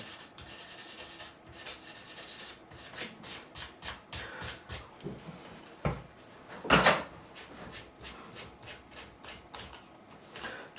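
A 1978 CBS-era Fender Stratocaster neck is hand-sanded with fine-grit abrasive paper, a close, quiet series of quick rhythmic rubbing strokes with one brief, louder scrape partway through.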